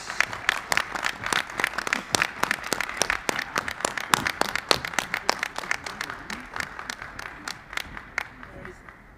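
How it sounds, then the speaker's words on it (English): A small crowd at a boxing press conference applauds five-time world champion Hanna Gabriels of Costa Rica with sparse, distinct hand claps in an uneven rhythm, fairly close, fading toward the end. "Let's give a round of applause for Hanna"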